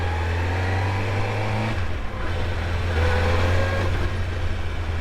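A friend's troublesome motorcycle engine running close by, a steady droning note with a high whirring gear whine riding over it, the pitch dipping briefly midway before settling back to an even run.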